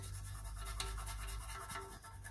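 A toothbrush with toothpaste scrubs a very dirty vehicle exhaust, a close, steady rapid bristly rubbing with rhythmic back-and-forth strokes, no speech.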